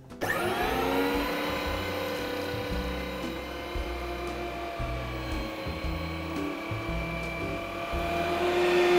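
Electric meat grinder running steadily as it clears leftover meat wound around its auger, a loud continuous motor whine with a rhythmic grinding churn underneath that swells slightly toward the end.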